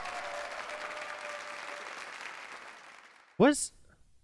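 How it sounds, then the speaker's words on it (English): Applause from a crowd, a steady wash of clapping that fades gradually, followed by a brief, sharp sound near the end. "I'm hearing applause."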